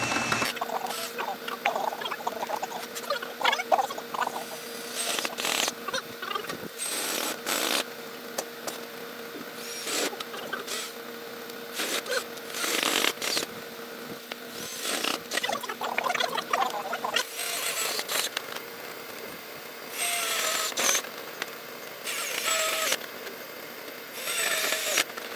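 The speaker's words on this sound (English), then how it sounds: "So now I'm just drilling in the pieces, wood to wood, drilling in pieces to secure the ramp for the dog." A power drill drives screws wood to wood on a dog ramp, with repeated short whirring bursts and pauses for handling, close and moderately loud.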